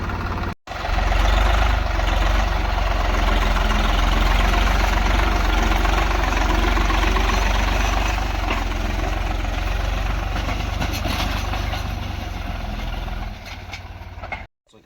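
A farm tractor's engine runs steadily in a field, a loud, continuous low rumble that holds at constant level for most of the span before cutting off near the end.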